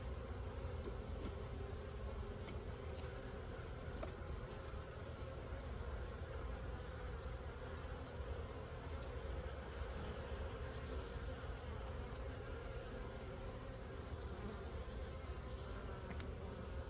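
Honeybees in a long-unopened bottom beehive box, set in a firewood hive in South New Jersey, hum as a dense, steady buzz that fills the whole stretch without a break, with no talking.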